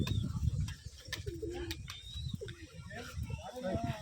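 Rajshahi Giribaj pigeons at a loft give short, low coos amid rustling and scattered chirps, with a person speaking close by.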